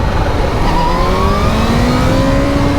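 A motorcycle fitted with a quick shifter accelerates hard through second and third gear, its engine note climbing steadily in pitch, loud and close, over heavy wind rumble and without speech.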